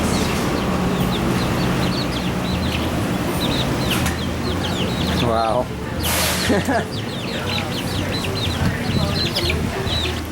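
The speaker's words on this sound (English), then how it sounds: "Come on, chicken." A chicken clucks in short, repeated bursts outdoors in Hawaii, close and fairly clear over steady ambient noise, while a person speaks briefly.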